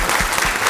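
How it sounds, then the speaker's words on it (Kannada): An audience at a formal government ceremony for newly appointed academy and authority members bursts into a brief, dense round of applause for the minister, loud and close. "ಇದನ್ನು ಆಗು ಮಾಡಿದಂತಹ ಮಾನ್ಯ ಸಚಿವರಿಗೆ ನಮ್ಮೆಲ್ಲರ ಪರವಾಗಿ ಒಂದು ಚಪ್ಪಾಳೆಯ ಮೂಲಕ ವಂದನೆಗಳನ್ನು ತಿಳಿಸೋಣ"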